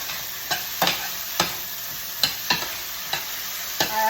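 Peppers sizzle softly in a frying pan under a steady hiss, broken by about eight sharp scrapes and clicks of a utensil stirring at uneven intervals, close and quiet.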